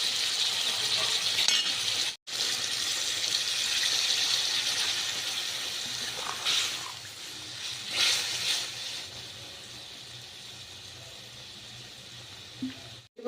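Puti fish frying in a pan with dried chili and cumin, a continuous close sizzle with a few stirring swells and a brief break.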